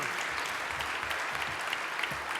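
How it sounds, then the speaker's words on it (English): A conference audience at a wine industry symposium applauds warmly, a dense, steady wash of clapping from many hands that holds evenly throughout. "a warm round of applause"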